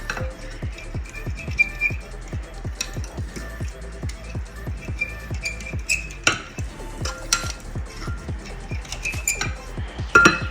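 Spoon stirring sugar-free strawberry Jello mixture in a bowl to dissolve it, a steady run of quick, even clinks and scrapes repeating close up for several seconds.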